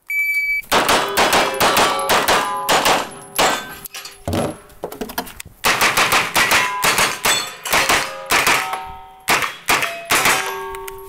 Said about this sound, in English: Well, can we shoot some of these?